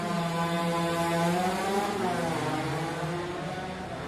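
A scooter passes by on a street in a residential neighbourhood, its buzzing engine rising and shifting in pitch as it goes past fairly close and loud, with no talking.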